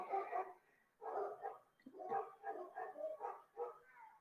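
Several dogs being walked on leads bark and yip in short bursts, moderately near and fairly quiet, with a few brief pauses between the volleys.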